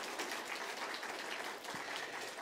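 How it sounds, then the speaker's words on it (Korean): A church congregation claps together in a dense, even burst of applause that fills the room at a moderate level, with no voices over it. "다시 한번 박수"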